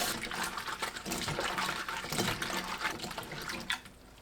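Dried jujubes rinsed in water in a kitchen, giving a steady, close splashing and running-water wash with continuous sloshing and faint clatter throughout.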